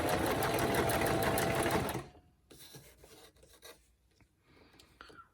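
A basic domestic sewing machine stitches pleated fabric in a steady, loud mechanical whir for about two seconds, then stops, leaving quieter handling and rustling of the cloth.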